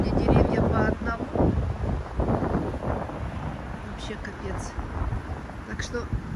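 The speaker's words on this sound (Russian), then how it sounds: "Смотрите, как у нас поднялся ветер." Strong wind gusts roar outdoors through trees during a storm, with loud, buffeting microphone rumble throughout and a few sharp bursts of debris or rattling.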